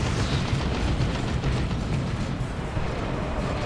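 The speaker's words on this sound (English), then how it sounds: "There's a barrage. It's a good barrage." Continuous rumbling explosions from an artillery barrage in the video game Warhammer 40,000: Dawn of War 2, a Space Marines versus Orks battle, forming a dense, steady roar of overlapping booms with no clear gaps.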